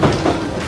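A London Underground tube train in motion, heard within a VR city tour, gives a loud, steady rumble with rhythmic clatter of the wheels on the rails, close and continuous with no talk.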